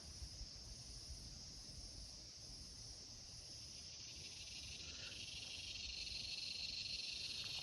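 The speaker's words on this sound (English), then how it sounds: "Just some weird clicking of cicadas" Insects buzz and click steadily in the bush, a dense high-pitched chorus with faint pulsing, quiet and constant throughout with no talk.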